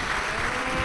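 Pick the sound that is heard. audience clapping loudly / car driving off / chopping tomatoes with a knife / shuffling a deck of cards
audience clapping loudly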